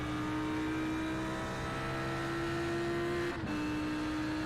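A 5.2-litre V10 race car engine drones at high, steady revs near 8,500 RPM at Monza, with a brief dip near the end, loud and close with no talk.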